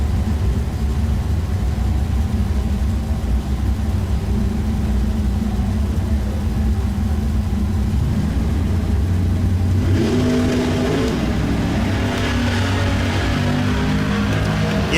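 A 1968 Ford Mustang and a 1968 Camaro drag racing in a bracket race, with a steady loud engine roar throughout that swells into harder revving acceleration toward the end.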